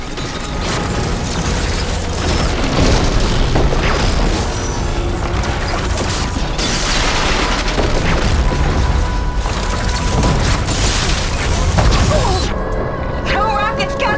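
Rocket blasts and heavy mechanical crashes pound through a battle in Horizon Forbidden West, loud booms and clattering arriving in dense waves with voices sounding over the action.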